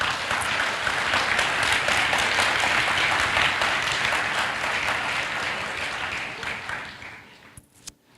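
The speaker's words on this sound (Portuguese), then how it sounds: "faz barulho de aplauso ao Senhor" A church congregation bursts into loud, dense applause that carries on steadily for several seconds, then thins out and stops near the end.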